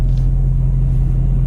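BMW E92 M3 engine, a high-revving coupe spinning toward 8,500 RPM, heard as a loud, steady low drone with strong harmonic rumble and no clear rise over a brief stretch.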